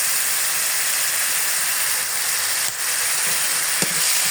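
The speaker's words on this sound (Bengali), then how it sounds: "তেল দিয়ে দিলাম খানিকটা। এখন দিয়ে দেবো পেঁয়াজ ভালো করে ভেজে" Onions frying in hot oil in a pan for a spiced koi fish bhuna, a dense steady hiss that stays loud and constant, with a couple of faint clicks.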